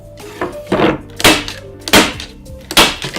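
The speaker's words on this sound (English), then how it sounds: "Now I'm going to staple gun my corners, 2 on every seam." A staple gun fires into the corners of a punch-needle hooked rug, three sharp, loud snaps spaced about a second apart over faint background music.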